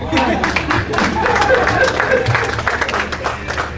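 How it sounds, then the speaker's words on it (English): An audience at a public forum on the Freedom of Information Act claps in a brief scattered burst, mixed with crowd murmur and speech, moderately close. "please clap for us again"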